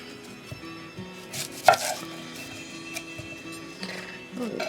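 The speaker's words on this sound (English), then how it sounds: "Now we'll cut up our onion." An onion is chopped with a knife on a board in a home kitchen, a series of close, irregular knocks with one sharper strike, over a low background hum and light kitchen noise.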